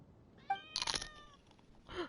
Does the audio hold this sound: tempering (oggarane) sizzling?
no